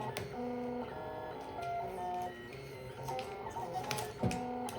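A Tina 2 3D printer runs close by, its stepper motors giving a quiet, steady whine. Shifting tones and soft ticks mark the short head movements, with no voices over it.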